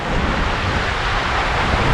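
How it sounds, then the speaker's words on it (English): Fast, snowmelt-swollen river rushing under an old stone bridge on a trail, a steady loud broadband roar with no breaks and no talk. "Water's quite fast."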